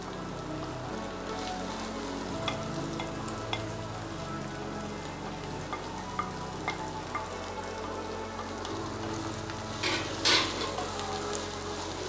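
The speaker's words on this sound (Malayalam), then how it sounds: "2 വലിയ സവാള അരിഞ്ഞതിട്ട് കൊടുക്കാം" Two large chopped onions fry in a pan for tomato rice, giving a steady, rain-like sizzle close by with soft stirring scrapes and a few clinks near the end.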